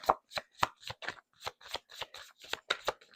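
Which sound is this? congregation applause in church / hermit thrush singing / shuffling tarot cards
shuffling tarot cards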